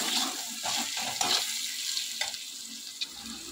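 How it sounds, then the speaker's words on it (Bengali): Onion and dried chillies fry in a pan with a soft, steady sizzle and crackle, punctuated by a few louder stirring clatters, with no voices. "এই পেঁয়াজ, শুকনো লঙ্কা এই সব কিছু দিয়ে একটু ভালো করে ভেজে নেব।"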